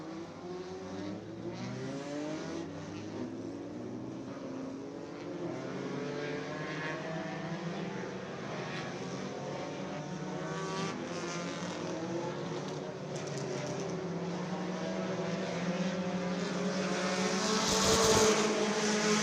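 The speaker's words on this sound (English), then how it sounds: "the drivers now working their way around the Screven Motor Speedway" Race cars run hot laps around Screven Motor Speedway during Winter Freeze practice, with engines droning and rising in pitch as they pass, building louder toward the end, heard from a distance with no talk.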